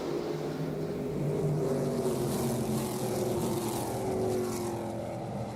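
ARCA stock cars race under green at Berlin Raceway, a loud continuous engine roar that holds steady throughout with faint shifts in pitch as the pack passes, and no talking.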